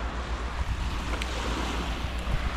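Sea waves washing onto the Baltic shore at Klaipėda on a calm, cool day, a steady low surf roar with gusts of wind buffeting the microphone throughout and no voices.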